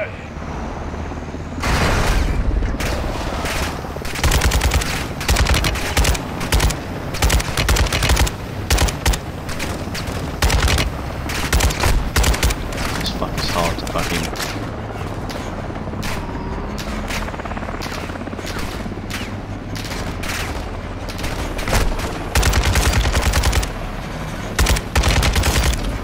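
LMG fire in Call of Duty: Modern Warfare 2 comes as loud, rapid bursts of automatic gunfire with booming impacts, repeating throughout over dense game noise.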